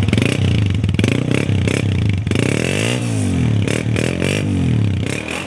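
A 2009 Honda 125 motorcycle engine runs close by, its thumping idle rising and falling through several throttle blips with rattly mechanical clatter, loud and alone.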